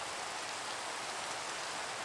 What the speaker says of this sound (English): Excuse the rain.